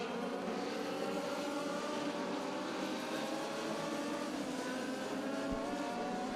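Race cars roar past during a heat race, a dense, continuous engine drone at moderate distance with no voices over it.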